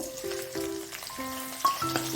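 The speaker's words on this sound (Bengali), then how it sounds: "কুচনো পেঁয়াজগুলো হালকা করে ভেজে নিব" Chopped onion, minced garlic, black cumin seeds and split green chillies sizzle in hot oil in a home kitchen, a steady close frying hiss with faint melodic tones running underneath.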